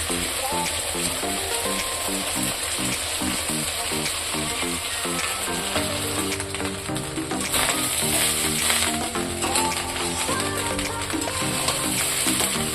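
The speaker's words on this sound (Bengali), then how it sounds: "ভালো করে নাড়াচাড়া করে নেব। এবারে দিয়ে দেব আগে থেকে করে রাখা ভাত।" Cooked rice for egg fried rice is stir-fried in a hot pan, with a dense, steady sizzle running throughout under background music, fairly loud and close.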